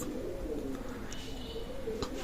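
Pigeons of a Pakistani breed in a loft make low, soft, rolling coos close by, steady under a faint background murmur, with a couple of light clicks.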